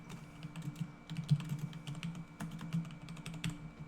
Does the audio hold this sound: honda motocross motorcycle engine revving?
no